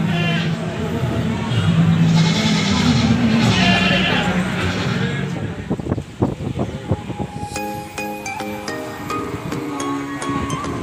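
At a crowded goat market in Kediri, goats give overlapping bleats amid a steady hubbub of voices, followed by a patch of sharp knocks and clatter.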